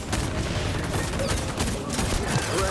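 Gunfire crackles in the PS5 shooter XDefiant on the Mayday map. Rapid bursts overlap into a loud, steady fusillade across the whole stretch.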